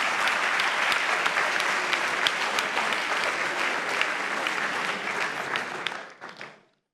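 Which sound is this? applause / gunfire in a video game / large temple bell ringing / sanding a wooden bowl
applause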